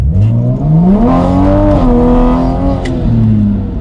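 Toyota Supra in first gear, tires spinning under hard acceleration: a loud, continuous engine drone with pitch rising and holding steady, close and alone without talk.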